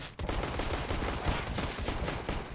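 Gunfire in a Counter-Strike style video game: dense, loud bursts of rapid shots filling the whole stretch, close and continuous with no pauses.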